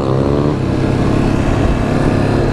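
An ATV engine idles loudly and close by on a muddy off-road trail, a steady rough rumble with a slight rise in revs near the start.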